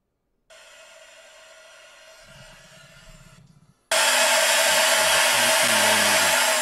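A CNC mill slots an aluminum heat sink. A steady high whine runs for a few seconds, a lower grinding rumble joins it, then a much louder broadband cutting roar takes over to the end.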